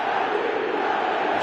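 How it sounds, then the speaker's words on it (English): A stadium crowd in an eFootball match game roars in a steady, dense wash of noise, loud and continuous without a break. "the crowd are reacting to that now"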